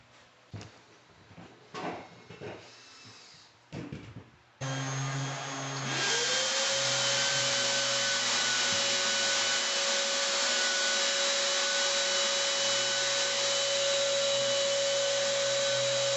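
After a few knocks and clunks, an orbital sander with a vacuum attached whines up and runs steadily with a loud vacuum-like hiss, droning on close by over a mobile home floor.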